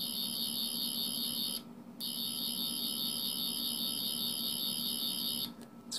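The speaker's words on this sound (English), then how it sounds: "So yes, I'm using the actual sonic screwdriver sound." A small speaker driven by an ATTiny85 chip plays the Matt Smith sonic screwdriver effect, a steady high-pitched electronic warble that cuts out briefly twice, heard on its own at a fairly low level.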